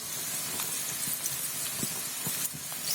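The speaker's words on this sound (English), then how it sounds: "Frying the onions." Onions sizzling and hissing in a hot pan for chicken, a continuous frying crackle with occasional soft pops, close up.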